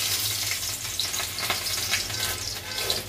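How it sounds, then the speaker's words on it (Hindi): Ingredients with grated chicken sautéing in a kadhai, a steady close sizzle with faint scraping and stirring throughout, no talk. "अब मुझे इन सबको कढ़ाई में डालना है, सॉटे करके इसका पेस्ट बनाना है"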